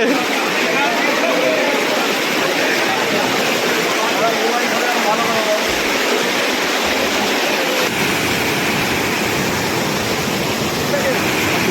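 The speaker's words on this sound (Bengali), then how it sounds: "জলের শব্দ শুনতে পাচ্ছেন" Loud, steady roar of flood water rushing through villages in Panskura fills the whole stretch, dense and unbroken, like a powerful flow close at hand.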